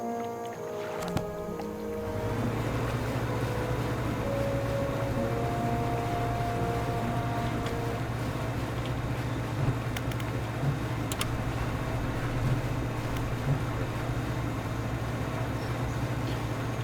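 A boat sails in the video game Dredge: after a brief start, a steady low engine drone settles in and runs continuously, with faint water wash over it and no talking.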